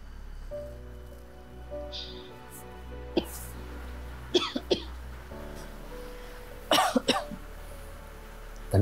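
A few short, sharp coughs break out at intervals in a quiet indoor scene from a Tamil drama, fairly close and distinct over faint room hum.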